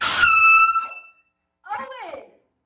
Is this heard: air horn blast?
yes